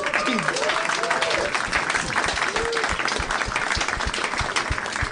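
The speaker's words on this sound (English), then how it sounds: "if you don't feel it deserves an applause, you don't need to applaud" Audience applause at a live comedy podcast taping, steady clapping from a crowd with a few shouts and cheers riding over it, continuing throughout.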